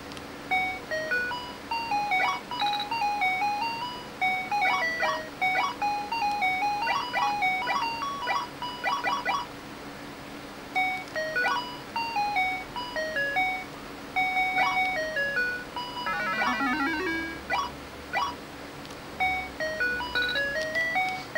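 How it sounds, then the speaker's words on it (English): Frogger plays on the Starpath Supercharger for the Atari 2600: a tinny, beeping electronic tune loops in short phrases, broken by brief pauses and one warbling sweep of a sound effect. "a little bit of Frogger for you from Starpath Supercharger"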